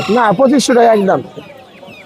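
A Polish cap rooster at a Mirpur-1 chicken market clucks close by while someone speaks over it, and the calls fade into quiet market background.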